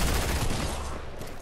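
Rapid gunfire in the video game Fortnite, a dense loud crackle of overlapping shots filling the whole brief moment.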